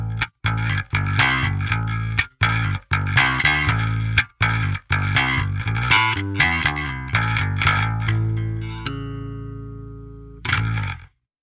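Tight, chunky distorted electric guitar from an amp simulator, miked with a ribbon 121 and a dynamic 57 blended together, played as staccato riffs with abrupt cuts and closing on a long decaying chord and a short final hit.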